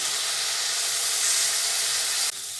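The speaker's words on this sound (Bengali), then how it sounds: "আমি এই দিয়ে এবার মশলাটা কষিয়ে নেবো" Spice paste frying in hot oil in a pan, a steady loud sizzle and hiss running unbroken, then dropping slightly near the end.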